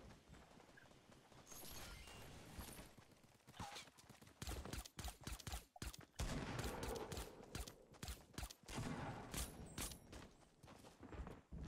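Gunfire in Fortnite, a string of sharp cracks and bursts loud and close, mixed with other game effects and footstep-like clatter.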